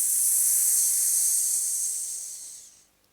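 A person exhales a long, steady hissing 's' during a voice and breathing exercise for seniors. The hiss is bright and even, then tapers off and stops after about three seconds.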